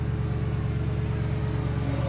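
A 710 hp Nissan GT-R50 by Italdesign rumbles with a deep, pulsing idle, close and steady for a couple of seconds.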